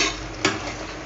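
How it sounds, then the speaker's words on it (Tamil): A ladle stirs cooked garlic porridge in a pot, a soft scraping, bubbling texture with one brief louder scrape of the utensil against the pot partway through and no talk. "இந்த மாதிரி கரண்டி விட்டு கைவிடாமல் இப்படி கிண்டிக்கிட்டே இருங்க, கிளறிக்கிட்டே இருங்க."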